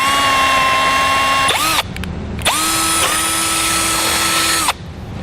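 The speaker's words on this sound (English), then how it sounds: "We'll be using a 3/8 inch drill bit, and we're going to do this on both sides" A power drill fitted with a 3/8 inch bit bores through a car's pinch weld, a loud steady whine in two long bursts, briefly spinning down and catching again between them, close and alone.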